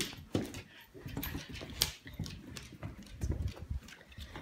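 A dog being trained to roll over indoors, with close, scattered bursts of movement, paw scrabbling and soft whimpering sounds of varying loudness across the few seconds.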